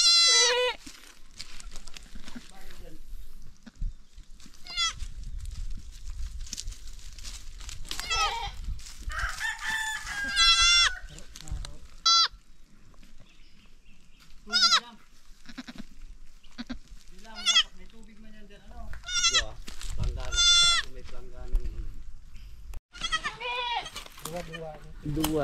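Goat named Pura bleating after giving birth, with a newborn kid nearby on a farm, several bleats scattered among a rooster crowing and frequent close talking.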